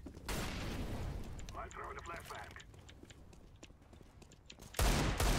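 Grenades going off in Counter-Strike on the Cobblestone map: a loud blast opens, a quieter stretch of game noise follows, and another sharp explosion hits near the end, with players talking over it.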